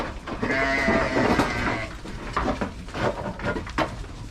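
Several lambs bleat close by in short, overlapping cries, with shuffling and scattered knocks between the calls.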